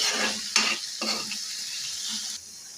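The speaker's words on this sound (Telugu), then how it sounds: "ఇవన్నీ కలిపి ఒకసారి బాగా కలుపుకోవాలి." Cooked ivy gourd with tamarind is stirred in a pan for chutney: two or three scraping strokes against the metal over a soft background sizzle, and then the sound fades out.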